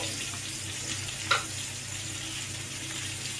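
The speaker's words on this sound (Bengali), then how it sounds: "তেলটা গরম হয়ে গেছে, এবার এর মধ্যে আমি মাশরুমগুলোকে দিয়ে দিচ্ছি" Mushroom pieces fry in hot oil with a soft, even hiss close by, broken once by a short clink of a utensil.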